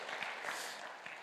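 A church audience at a faith concert gives a short round of applause, a soft, fairly distant wash of clapping that lasts only a moment.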